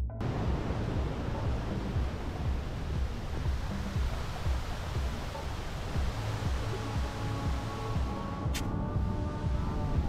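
Ocean surf on an Icelandic beach roars in a continuous, loud wash of breaking waves, with wind buffeting the microphone and a brief sharp whistle near the end.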